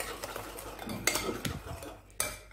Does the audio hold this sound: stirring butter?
yes